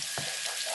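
Spices sizzling in hot oil in a kadai, a steady hiss of frying with a brief louder splutter near the start as something is stirred, close and continuous.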